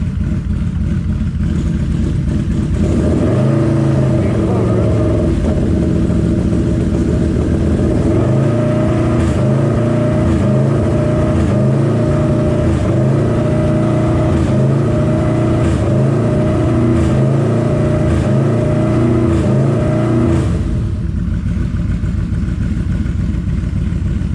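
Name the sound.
Yamaha V-Max motorcycle engine running, shifted into gear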